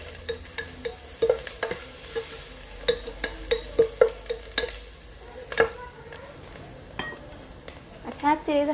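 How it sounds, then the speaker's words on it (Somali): Onions fry in oil in a pan for a chicken dish, with a steady soft sizzle under irregular scrapes and clinks as a utensil stirs them. "basasha xoogo way ii soo yar shiilantay"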